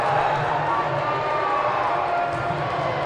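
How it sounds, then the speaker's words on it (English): Dense, loud roar of a basketball arena crowd during free throws in a tight men's game, sustained cheering and noise throughout with a voice faintly audible beneath. "Listen to this crowd."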